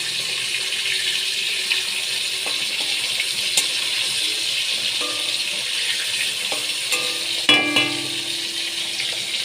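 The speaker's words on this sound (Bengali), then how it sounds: "মাছ আমি ভেজে নিলাম" Fasha fish frying in oil in a pan, a loud constant hissing sizzle with occasional faint clicks and a brief louder bump near the end, no voices.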